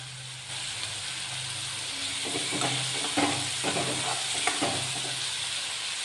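Spiny brinjal palya frying in a pan, a steady soft sizzle broken by several scraping strokes of a spatula stirring, close by and without voices.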